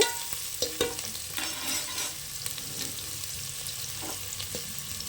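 Dried red chilies, green chilies and shallots sauté in a pan for a greens and green gram curry, a soft continuous sizzle broken by repeated spatula stirs and light scraping taps.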